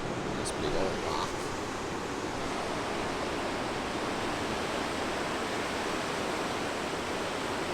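Waves breaking on a driftwood-strewn beach beside a campsite make a continuous, even roar of surf, fairly loud and steady from start to finish.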